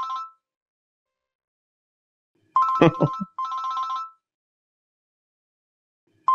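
A phone ringtone sounds in short electronic warbling bursts separated by silence, with a brief spoken exclamation overlapping one burst.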